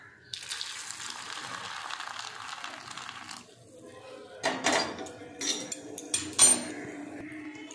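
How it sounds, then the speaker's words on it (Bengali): Hot water poured into a casserole of rajma (kidney bean curry) in a home kitchen, a steady splashing pour for about three seconds followed by a few louder clinks and clatters of cookware. "এবার গরম জল দিয়ে দিচ্ছি।"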